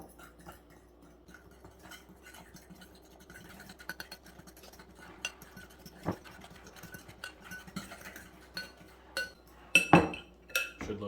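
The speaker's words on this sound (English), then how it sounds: "We're going to mix all these ingredients together first" Meatball ingredients with an egg being mixed in a bowl, quiet clinking and scraping of a utensil against the dish at first, growing into louder, quicker clatters toward the end, close and with no talking.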